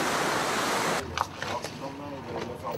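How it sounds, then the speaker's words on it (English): Waves breaking along a reef in warm Maldives water, a steady loud wash of surf that cuts off abruptly partway, leaving quieter water sounds with scattered brief splashes and a voice. "reef is now covered enough for the wave to start breaking"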